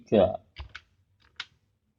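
Keys tapped on a computer keyboard while entering a set/reset instruction in Mitsubishi PLC programming software: a few soft, separated clicks, close and quiet, following a brief stretch of voice.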